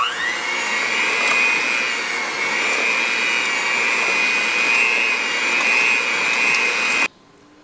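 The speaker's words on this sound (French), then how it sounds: "Et ensuite, on va mélanger au mélangeur électrique." An electric mixer beats brownie batter with brown sugar and vanilla, giving a steady high-pitched motor whine that runs loud and close for about seven seconds, then cuts off abruptly.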